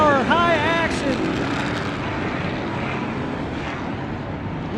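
High-horsepower off-road race vehicles at the 2017 MetalCloak Stampede roar loudly and continuously, with one engine rising in pitch near the start before the sound settles into a steady, dense drone.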